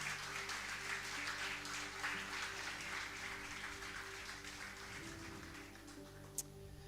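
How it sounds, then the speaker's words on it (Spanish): Congregation at a church service applauding together, a steady sustained clatter of many hands lasting several seconds, with faint room hum beneath and no speech over it. "Dale un aplauso al Señor."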